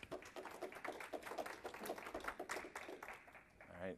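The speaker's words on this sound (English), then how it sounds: "Give him a big round of applause." Audience applause for a speaker at a Nagios conference talk, steady broadband clapping filling the room at moderate distance, with a voice briefly rising near the end.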